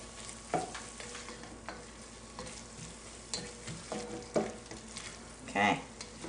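Tomato sauce is stirred into a lentil stew in a sizzling pot, with quiet scraping strokes and soft taps of the spoon under a low, steady sizzle.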